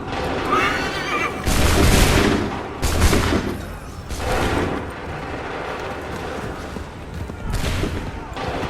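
A musket volley in Assassin's Creed 3 at the Battle of Lexington and Concord, with several loud booming bursts of massed fire and a horse whinnying amid a battle din.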